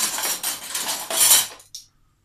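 A spoon scrapes and clinks against a bowl while tuna salad is stirred, in several quick bursts of metallic rattling. The scraping stops abruptly, and one last short clink follows.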